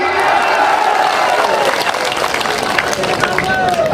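A large crowd claps and cheers at a political rally in India, dense continuous applause mixed with crowd noise and a background voice.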